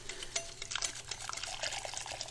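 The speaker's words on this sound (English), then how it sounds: "the more warm liquid you add, the faster you can start adding the liquid, right? So we're adding in bigger amounts now." Warm liquid poured in a thin stream into egg yolks while they are whisked, a soft continuous trickle and splash with light whisk taps, close and fairly quiet.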